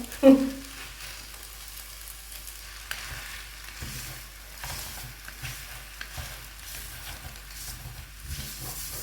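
Glass noodles stir-fried with egg in a pan, a soft steady sizzle with occasional scraping stirs and a clatter at the start, some quiet talking in the background.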